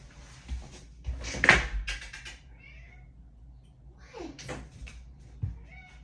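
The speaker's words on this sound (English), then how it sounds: "my cat's out there meowing" A cat meows a few times from a short distance, with a soft knock or door sound nearby between the calls.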